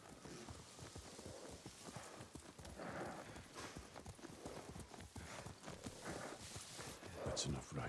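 Horse hooves clip-clop steadily while riding in Ghost of Tsushima, a close, rhythmic trot running throughout under an ongoing conversation between characters.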